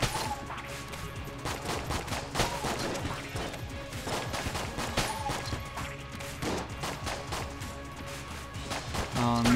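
Rapid gunfire from the twin-stick shooter Enter the Gungeon, dense volleys of shots and crashing impacts in continuous bursts over game music, loud and steady throughout.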